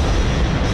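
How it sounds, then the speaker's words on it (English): A huge video-game explosion roars as a dense, sustained rumble filling the whole short moment, loud and steady with low booming energy and no talk over it. "I'm just happy that I saw that huge explosion"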